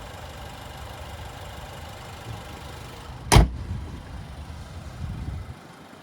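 A 2022 Chevrolet Silverado 1500's turbocharged 2.7-liter four-cylinder engine idles with a low, steady rumble, interrupted midway by one sharp, loud knock or thump.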